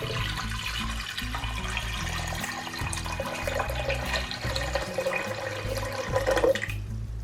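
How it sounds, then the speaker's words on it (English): About a liter of water poured for a cold and flu remedy drink, a steady splashing gush lasting several seconds, close and continuous, ending abruptly. "next up we're going to add at least 1 liter of water"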